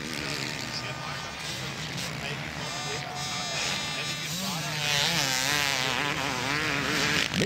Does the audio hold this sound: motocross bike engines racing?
yes